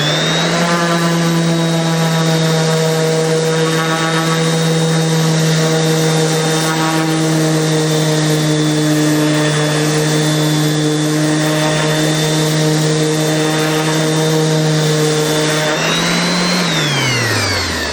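A random orbital sander runs continuously on wood, giving a loud, steady whine with a constant pitch that shifts and drops near the end as the tool is lifted or slowed.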